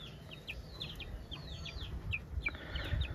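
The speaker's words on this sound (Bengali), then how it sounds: "নিচে আমার আসিল মুরগির বাচ্চাটা আমার পাশে এসে বসে আছে।" An Aseel chicken chick peeps repeatedly close by, a series of short high cheeps over quiet background hum, growing a little busier toward the end.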